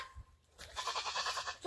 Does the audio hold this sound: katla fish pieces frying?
no